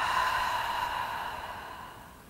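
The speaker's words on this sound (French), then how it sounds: "Expire par la bouche." A soft, slow breath out through the mouth during a gentle yoga pranayama practice. It is a faint, airy exhale that fades gradually, with no talking.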